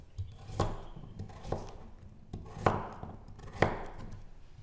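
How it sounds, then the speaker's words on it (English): A kitchen knife chopping a carrot into large pieces on a cutting board, four distinct sharp chops spaced about a second apart with faint handling noise between, close and alone. "Cut the stalk off the carrot and throw it away. Cut the rest into large pieces."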